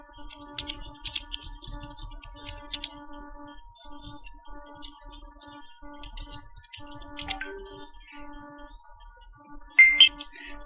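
Close-up typing on a computer keyboard, bursts of quick clicky keystrokes with short pauses over a faint steady hum, ending in a slightly louder cluster of key presses.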